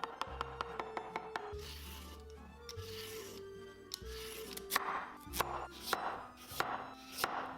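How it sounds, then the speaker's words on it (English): A knife chops fresh wood ear mushrooms on a cutting board in steady, crisp strokes, quick at first then in uneven bursts, close and fairly quiet with no talking. "Chop the wood ear mushrooms."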